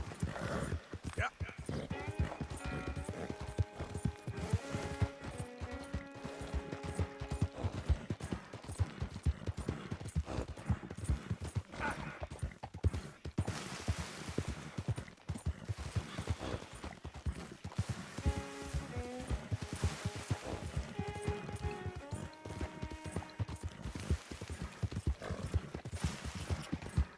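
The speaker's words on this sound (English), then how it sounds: "Man, I can never get tired of riding my horse around." Hooves clip-clop in a steady rhythm as a horse is ridden across open country in Red Dead Redemption 2, with a snort or whinny, music and someone talking over the ride.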